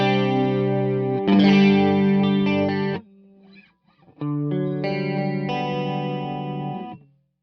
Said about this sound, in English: I like my chorus to be slow and wide, so quarter note tempo is pretty slow